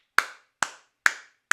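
Four sharp, evenly spaced claps ring out alone, close and crisp, each with a short decaying tail, like the clap opening a DJ intro edit.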